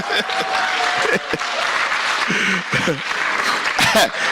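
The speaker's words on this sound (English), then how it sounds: "Please just clap your hands for everybody in the house." Community club audience clapping in a hall, a continuous wash of applause with scattered cheers and voices talking over it.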